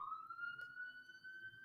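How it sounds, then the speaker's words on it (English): A siren wails outside, faint and distant, holding a steady rising tone that slowly climbs in pitch throughout, with no voices nearby. "Sorry if you can hear a siren out there."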